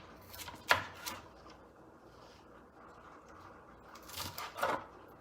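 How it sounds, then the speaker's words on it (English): Ingredients for a Cajun shrimp skillet are chopped roughly on a cutting board, with two short clusters of knife strikes against a quiet kitchen background and no talk. "So I'm just roughly chopping these up."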